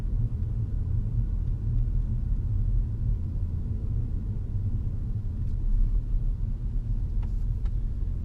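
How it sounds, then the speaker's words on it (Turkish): On a hybrid car driven through the city, the petrol engine starts up to join the drive, giving a steady low rumble that stays faint and continuous with no talk. "Bu sefer benzinli motor devreye girdi son anda."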